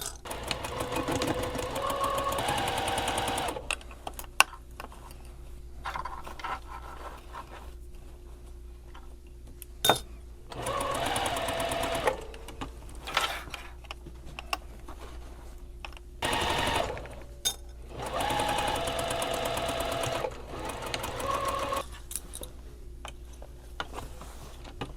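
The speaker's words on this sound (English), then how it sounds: "You'll just be sewing along the armhole opening with a straight stitch with a 1/2 inch seam allowance." A sewing machine runs a straight stitch along the armhole of a shirred dress in several separate bursts, each a close, rapid mechanical whir, with quiet pauses and a few clicks in between.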